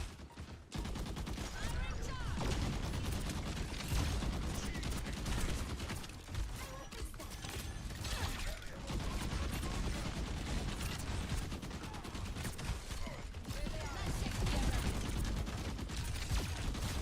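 Video game gunfire crackles in dense, sustained bursts across the whole stretch, dense and loud, with occasional speech mixed into the chaotic battle noise.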